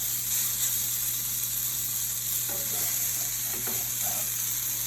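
A portabella mushroom, just flipped, sizzles in a hot pan with a steady, close hiss under a low hum, and a few soft shuffles and scrapes toward the end.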